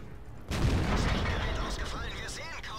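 Tank gunfire in the World of Tanks video game: a loud boom at about half a second, then sustained rumbling battle noise with further sharp cracks, while someone talks over it.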